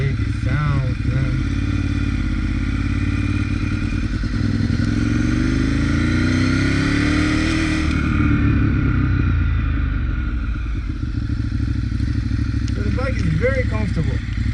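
Ducati 848 EVO superbike engine rumbles and revs steadily while being ridden, swelling to a louder peak mid-ride, with a rider's voice heard briefly over the exhaust at the start and end.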